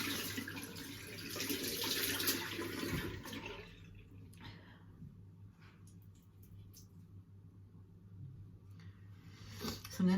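Water runs from a tap into a sink while washing is rinsed out, loud at first then fading to quieter trickles and splashes, faint overall.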